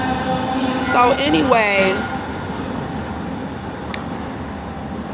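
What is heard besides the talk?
train passing by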